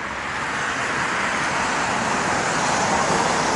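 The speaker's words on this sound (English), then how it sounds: "Sorry about the noise behind me. It's a busy street right behind me." Steady, dense roar of passing road traffic, cars and heavier vehicles blending into a constant wash of noise with no voices.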